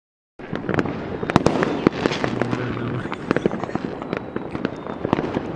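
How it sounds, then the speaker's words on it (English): Fireworks go off in rapid succession, a dense string of sharp cracks and pops with crackling bursts, loud and irregular after a moment of silence, some overlapping into a continuous sputter. "Fireworks!"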